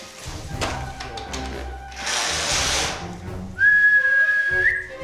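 A zoo keeper whistles to call tamarins and marmosets in for food, a clear rising then sustained whistle near the end, following a burst of rustling and a few knocks, with no talk.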